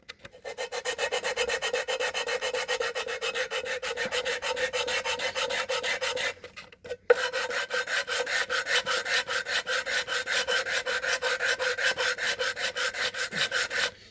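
A hand file rasps back and forth across the sharp edge of a brake pad in quick, rhythmic strokes, steady and close, with a short pause midway.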